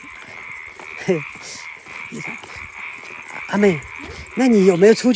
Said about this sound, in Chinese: 晚上听听这个青蛙的叫声还不错嘞